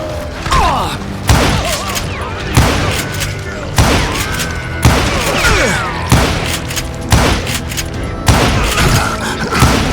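Gunfire in the Western shooter Call of Juarez: Gunslinger, loud rapid bursts of shots and ricochets repeating in rhythmic volleys roughly every second or so, with booming impacts and whizzing bullets throughout.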